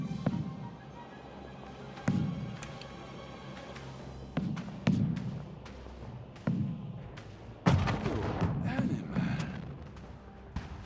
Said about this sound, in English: That's a big gun.